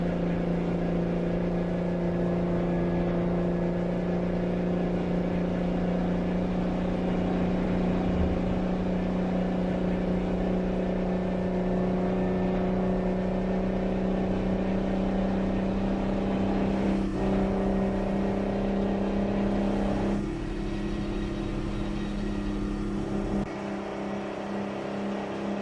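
A two-stroke truck engine drones loud and steady at high revs for a long stretch, with a few brief shifts in tone near the end and no talk.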